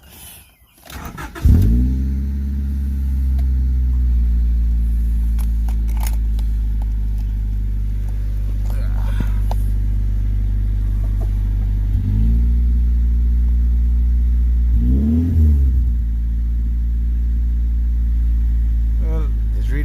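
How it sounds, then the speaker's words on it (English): Turbocharged Honda Del Sol engine cranks and catches, then settles into a steady, loud idle with strong low harmonics, dipping briefly around twelve and fifteen seconds before evening out again; close and continuous. "I'm gonna start the car, see if it reads vacuum."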